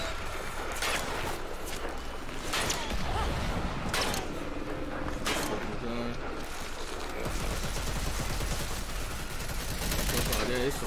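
Gunfire in the zombie game Dead Island 2 at a train station: a dense spread of sharp shots and bursts from about 1 to 5 seconds, with scattered game noise and excited talk running over the top.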